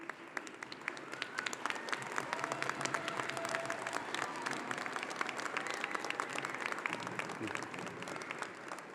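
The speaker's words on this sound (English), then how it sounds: "Let's please take a moment for a round of applause to our staff and administrators" Sustained applause from a large audience at the Clayton State University Fall 2024 commencement ceremony, honoring staff and administrators. Dense, even clapping fills the whole stretch without letting up.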